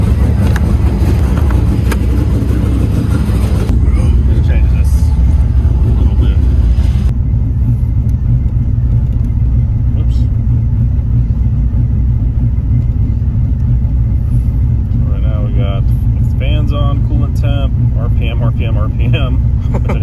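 A V8-swapped Pontiac Fiero running a Holley Sniper fuel injection drives along with a steady low engine rumble throughout, while people talk inside the car.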